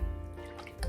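Cooking oil pours from a storage dispenser in a brief, close liquid trickle and glug lasting about a second, with no talking.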